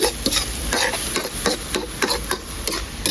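Dry stir-frying in a pan for a spicy frog stir-fry, a utensil scraping and tossing in quick rhythmic strokes over a steady hiss, close and loud with no talk.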